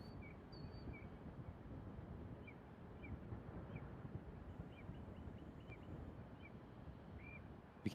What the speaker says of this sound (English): You can hear the birds out there at the press site.